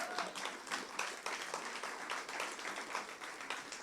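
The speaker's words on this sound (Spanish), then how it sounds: "¿Podemos dar un aplauso al Señor?" A church congregation applauds together in steady, faint clapping that continues throughout.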